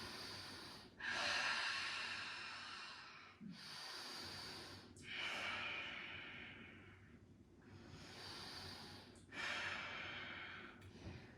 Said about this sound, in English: Taking a few really fluid breaths into the left lung.